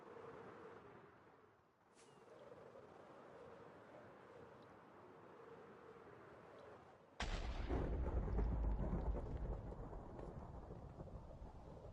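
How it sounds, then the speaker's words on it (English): Thunder rumbles through a Minecraft mountain map, a steady low roll for the first seven seconds, then a sudden loud crack that swells into a heavy, booming peal before slowly easing off. "Also, it's thundering right now."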